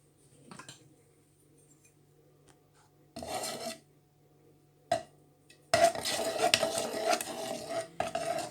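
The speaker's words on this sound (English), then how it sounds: "first I'll just give it a little, very gentle stir" Homemade apple and blueberry cider being stirred gently, heard as a few quiet scraping, rasping strokes against the container, separated by near-silence, with a longer rubbing stir toward the end.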